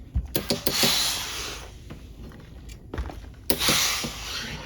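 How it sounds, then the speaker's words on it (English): A sewing machine stitches a side pocket with stay, running in short mechanical bursts of rapid clicking and whirring, separated by brief pauses and faint handling noises. "So I will go to the machine, sew this"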